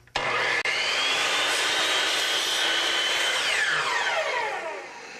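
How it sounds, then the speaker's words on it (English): A chop saw spins up with a loud, steady whine and bites through a piece of wood cut at a miter angle for door trim. The pitch drops as the blade winds down at the end, with no talking. "Next, we cut the pieces to size on the chop saw,"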